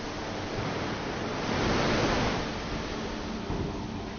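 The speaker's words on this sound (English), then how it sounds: "In order to cleanse the surface, water is sprayed at high pressure" High-pressure water jets at 160 bar blast mill scale off hot steel before rolling in a hot rolling mill, a dense continuous roaring hiss that swells briefly in the middle and sounds somewhat distant.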